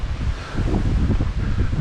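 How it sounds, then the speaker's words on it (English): Wind blows hard and steadily at a mountain shrine on Mt. Ryuso in Shizuoka Prefecture, buffeting the microphone with a constant low rumble and rushing gusts. "the wind has picked up"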